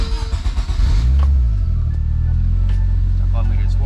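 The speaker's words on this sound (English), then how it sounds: "Let's start up the car real quick." A Nissan B13 Sentra engine cranks briefly and catches, then settles into a steady, fairly loud idle rumble close by, with some handling noise at the start.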